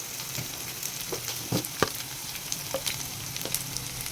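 Chopped onion and green chillies frying in a pan: a continuous soft sizzle broken by sharp clacks and scrapes of a stirring spoon, close up with no voices.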